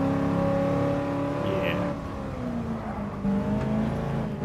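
A racing car engine in the Gran Turismo game drones steadily with harmonic revs shifting in pitch through gear changes, loud and close, with a brief tire squeal.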